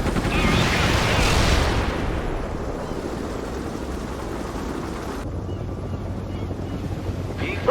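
Heavy sustained gunfire from a medium attack gunship opening up with all its guns in World in Conflict, a dense roaring barrage loudest at the start and rumbling on with wind-like noise under a fading battle.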